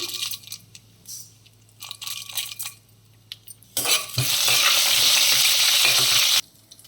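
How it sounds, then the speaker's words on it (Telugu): Mustard seeds, cumin, dried red chillies and urad dal hit hot oil in a pan. After a few clinks and taps there is a sudden loud, steady crackling sizzle that cuts off after a few seconds. "ఆవాలు వేసుకుందాం కొంచెం జీలకర్ర ఎండుమిర్చి కొంచెం కొంచెం మినప్పప్పు వేసుకుందాం"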